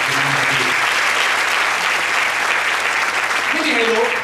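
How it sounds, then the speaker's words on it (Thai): Loud, sustained applause from a large crowd fills the hall at a 2009 Amway business success rally in honour of a diamond-level businessman, with a voice speaking over the clapping. "ก็ขอปรบมือดังให้กับนักธุรกิจระดับตีเพชรนะครับหมอโตด้วยนะครับ"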